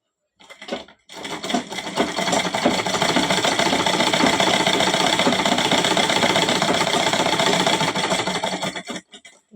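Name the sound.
sewing machine stitching a line on cloth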